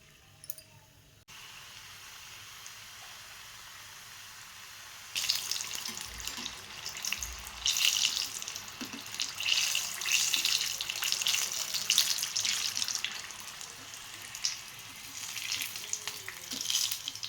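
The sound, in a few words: samosas frying in hot oil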